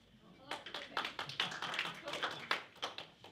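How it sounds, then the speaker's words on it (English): Scattered audience clapping at a mayoral forum, a modest crowd of individual hands, fairly quiet and close, beginning after a short pause and continuing in an uneven, loose patter. "You're allowed to clap."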